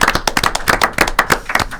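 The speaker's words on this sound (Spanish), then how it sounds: "¿Qué tal si los recibimos con un aplauso a todos ellos?" Close, sharp hand claps ring out in quick irregular succession as an audience welcomes prize winners at a political event, each clap crisp and distinct rather than blending into a wash.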